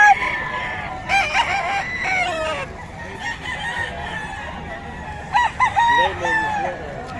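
Roosters at a fighting-cock market crowing and clucking close by, with two or three loud crows standing out over a steady background murmur.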